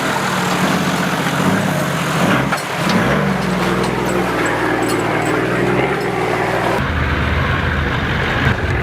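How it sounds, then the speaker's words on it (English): A four-wheel drive vehicle grinds along the rough Climbies track in low range, with a loud, steady engine drone and a gear or load change near the end; no voices. "proper four-wheel driving"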